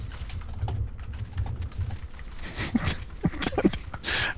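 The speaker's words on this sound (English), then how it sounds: "I'm hearing the furious typing." Fast, furious typing on a computer keyboard during a Hammerwatch game session, dense clattering keystrokes running throughout, with game sounds and a few sharper bursts near the end.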